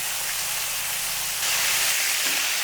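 Prawns fry lightly in a hot pan for a prawn malai curry, producing a loud, steady hissing sizzle that swells partway through. No speech is heard.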